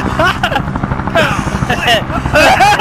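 Helicopter rotor noise in the Zero Latency VR game Outbreak Origins, a steady chopping drone running through the clip beneath excited players shouting and talking over it.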